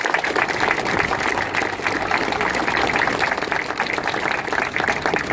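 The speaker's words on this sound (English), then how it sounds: "Absolutely, a round of applause." Steady applause from a crowd, dense clapping that holds at an even level throughout with no voices standing out.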